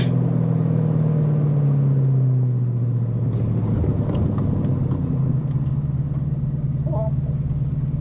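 A 1998 Ford SVT Cobra's engine drops in pitch after a downshift, the exhaust note settling into a steady lower rumble from inside the moving car, with faint speech over the road noise.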